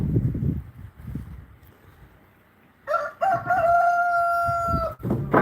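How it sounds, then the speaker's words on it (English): Roosters and small bantams crowing around a barnyard, with one loud, near crow held for about two seconds after low clucking and rustling, and fainter crows elsewhere. "Some are crowing down at the barn, the other one's up here crowing, then you got the little bantams that are crowing."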